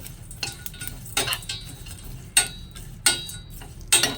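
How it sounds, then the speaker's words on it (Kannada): Masala spices dry roasted in a pan without oil, with a spoon or spatula scraping and clinking against the metal in sharp, irregular strokes about once a second, loud and close. "ಇದರಲ್ಲಿ ಎಣ್ಣೆ ಏನು ಹಾಕ್ತಾ ಇಲ್ಲ ನಾನು ಡ್ರೈ ಆಗಿ ರೋಸ್ಟ್ ಮಾಡ್ಕೊಳ್ತಾ ಇದ್ದೀನಿ"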